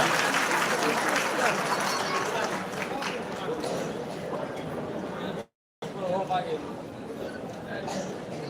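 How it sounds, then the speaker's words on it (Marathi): A crowd claps continuously, a dense patter of applause that cuts out for a moment and then resumes. "टाळ्या कमी होत आहेत"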